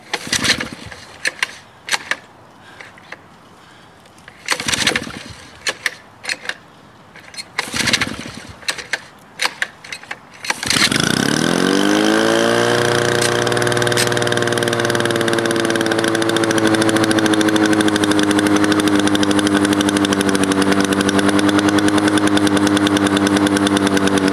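A Toro 21-inch Proline lawn mower with a Suzuki engine is cold-started outdoors: several sharp pull-cord yanks and sputters over about ten seconds, then the engine catches and rises into a loud, steady, close running drone.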